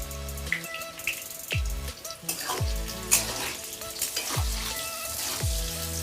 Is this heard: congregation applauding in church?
no